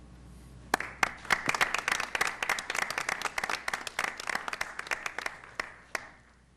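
Applause for a first-place poster contest winner at a city council meeting starts abruptly after a quiet moment, swells into sharp, scattered clapping from a modest crowd, then fades out.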